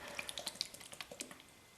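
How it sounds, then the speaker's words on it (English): Water splashing and dripping as a face is rinsed after a wet shave with a Muhle R41 DE razor, a run of short, close splashes and drips at a quiet level. "Then rinse with water"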